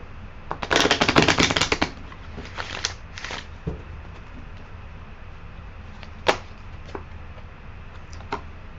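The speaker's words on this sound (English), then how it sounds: "let's see if we can pull some cards on this, on top of this King of Swords here" Tarot cards riffled in a quick burst of dense crisp flutters, then a few separate snaps and slaps as single cards are drawn and laid down, close and with no talk.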